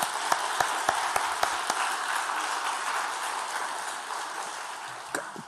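A church congregation at a Friday prayer meeting applauds in a sustained wash of clapping, with a few sharper individual claps standing out before the sound slowly tapers.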